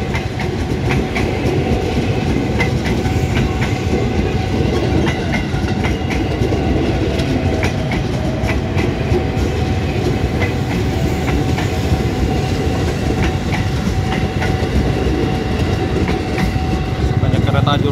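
A train rolls through a busy Jakarta railway station, with a continuous loud rumble and rhythmic clickety-clack of wagon wheels over rail joints, close and steady throughout, with faint voices mixed into the din.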